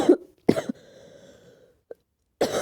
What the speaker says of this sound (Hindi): मैंने बहुत ट्राई किया था खांसी रोकने के लिए, लेकिन रुक ही नहीं रहा है